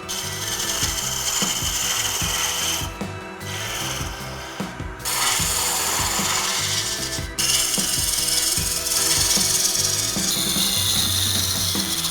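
A wooden game piece head is roughly shaped on a lathe, making a loud, continuous grinding, rasping hum with steady rhythmic scraping and a few brief pauses.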